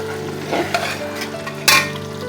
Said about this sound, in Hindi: अभी मैं इसको मज़ीद अच्छी तरह भून रही हूँ